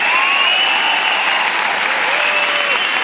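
A comedy-show audience applauds in a dense, continuous wash of clapping that holds steady throughout, with a voice faintly carrying over it.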